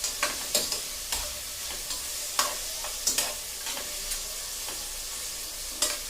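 Tomatoes sautéing and stirred in a pot for pork sinigang, with a steady close sizzle broken by repeated sharp scrapes and clinks of a utensil against the pot.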